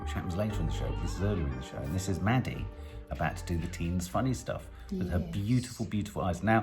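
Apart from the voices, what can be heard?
None of the usual background noises is heard.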